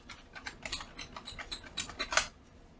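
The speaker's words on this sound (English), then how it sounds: "So keyboard works." Keys clatter on an IBM PCjr computer keyboard in a quick, uneven burst of close clicks, with a few sharper strikes near the end and nobody talking.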